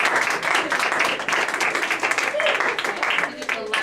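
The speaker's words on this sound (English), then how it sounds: "I would really like you guys to thank them, give them a round of applause" A classroom audience claps after a produce presentation, giving a dense, steady round of applause that runs throughout, close and fairly loud, with voices mixed in.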